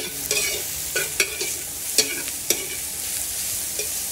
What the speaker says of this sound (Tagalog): Yan po, halo-halo lang po yan. Halo-halo, halo-halo. Maluto yung ating sibuyas.